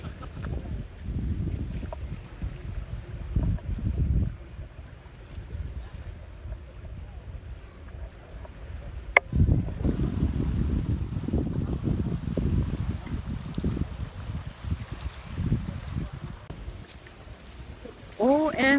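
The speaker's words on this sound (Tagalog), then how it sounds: "Ganda, ganda pakinggan ng alon. Tsaka yung hangin." Sea waves and wind heard from aboard a boat at sea, a steady rushing wash with gusty wind buffeting the microphone, swelling and easing in surges throughout.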